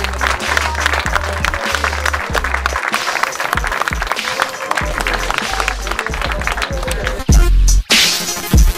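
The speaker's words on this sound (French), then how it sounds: "On peut les applaudir, je pense." Audience at the Triple King Contest 2013 in Dunkerque applauding forty event volunteers: dense, sustained clapping from a large crowd running throughout, with some crowd noise and low rumble mixed in and a brief loud burst near the end.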